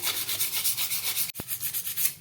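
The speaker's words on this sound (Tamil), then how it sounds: "இது போல் கொஞ்சம் நேரம் தேய்ச்சிக்கிட்டே இருந்தீங்கன்னா நல்லா சார்ப்பாயிடும் இப்போ நான் தேய்ச்சிட்டு காமிக்கிறேன்" A rusty scissors blade rubbed to sharpen it and clear the rust makes a rhythmic scraping rub, close and steady, broken once by a short sharp knock before the strokes resume, with no speech.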